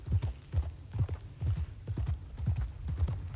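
Horse hooves clip-clopping on the ground in the video game Red Dead Redemption 2, a steady walking rhythm of soft, muffled beats, fairly quiet with no talk.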